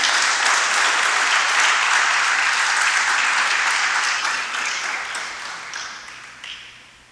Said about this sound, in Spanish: Puede darle palmas fuertes al Señor.